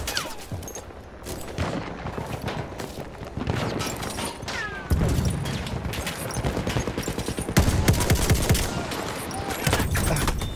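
Dense, rapid bursts of gunfire from a shooter video game, close and loud, with overlapping volleys and booms running continuously without a break.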